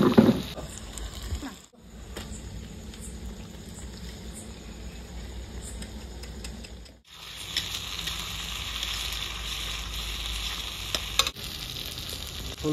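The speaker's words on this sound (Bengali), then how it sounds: "চিকেনের পেঁয়াজটা এখন ভাজা হচ্ছে" Onions frying in oil for a chicken curry give a steady, close sizzle with stirring scrapes, broken by two brief quiet gaps, with no talk over it.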